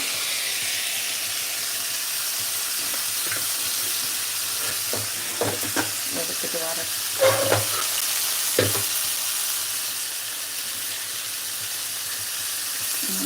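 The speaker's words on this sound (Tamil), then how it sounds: "இப்போ இந்த ஸ்டேஜ் வதக்கியாச்சு இப்போ நம்ம மட்டன் போட்டு நம்ம செஞ்சனா மட்டன் மசாலாவை போட்டுக்கலாம்" Mutton frying with shallots in a clay pot gives a steady close sizzle and hiss, broken by a few stirring scrapes and clinks near the middle. No one speaks.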